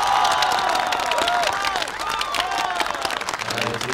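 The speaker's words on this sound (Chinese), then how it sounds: "让我们现场以最为隆重的掌声有请他们。" Audience applause and cheering at a live stage show as a delivery-company team is introduced, steady dense clapping mixed with crowd voices, loud and sustained throughout.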